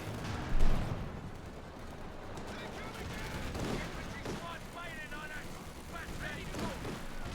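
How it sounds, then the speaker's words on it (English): A Panther tank fires its cannon in Company of Heroes 2, the World War II strategy game, one heavy boom near the start followed by rumbling battle noise under steady commentary. "Panther firing away here"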